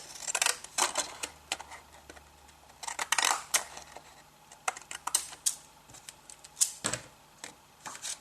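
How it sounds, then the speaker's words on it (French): Pinking shears cut along the edge of a paper envelope in a close series of crisp, irregular snips with short quiet gaps between them. "Je vais faire la découpe au ciseau cranteur au bord de ma pochette"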